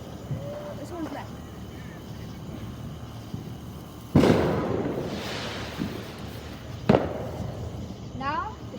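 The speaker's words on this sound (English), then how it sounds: "Now we do the real fireworks, guys" Backyard Fourth of July fireworks go off in two sharp, loud bursts with crackling tails, the second shorter, over a low outdoor background.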